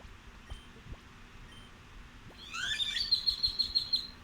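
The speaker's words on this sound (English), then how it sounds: "There's a bird in the background." A bird outdoors chirps through an open balcony door, a quick run of bright, repeated tweets rising after a few soft clicks in an otherwise quiet room.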